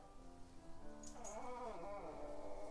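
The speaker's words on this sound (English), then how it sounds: "Oh, my puppy's crying again." A puppy whimpers and cries in a faint, whining voice that rises and falls over a steady low background hum.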